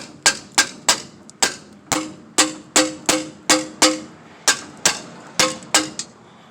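A hammer striking parts of a stuck engine during a breakdown, with around eighteen sharp, close metallic blows in a quick, mostly steady rhythm, several ringing with a brief clang.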